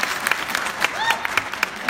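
Town hall crowd at a high school clapping and cheering, a busy wash of applause with a few sharp louder claps and brief whoops rising over it, no clear speech.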